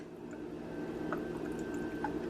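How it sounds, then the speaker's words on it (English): Coffee is poured over ice, giving a faint, close trickle with small drips and clinks throughout the short pour. "then you can take this and then pour the coffee that's in here over"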